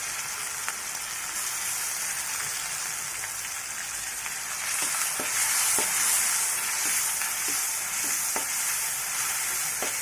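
Onion, garlic and ginger paste frying in oil with a steady, bright sizzle, while a utensil scrapes and stirs in intermittent taps. No one speaks.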